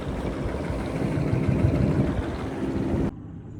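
A boat motors along a river in Laos toward Nong Khiaw, its engine a steady, close low rumble with water noise before it cuts off abruptly near the end.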